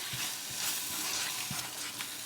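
Corned beef and bacon sizzle in a frying pan, a steady crackling hiss with occasional soft stirring taps, heard close up and without talk.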